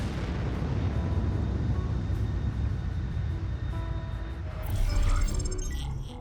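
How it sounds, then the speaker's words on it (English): A nuclear missile launch in the futuristic strategy game Anno 2205 builds as a broad, heavy rumbling roar, swelling into a brighter rushing burst with metallic whines near the end, loud and without voices. "Launching nuclear missile. Nuclear missile fired."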